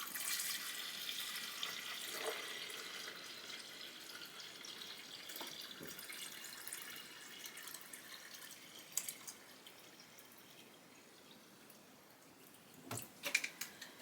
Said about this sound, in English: But then I just pour this in up to the 12-cup mark.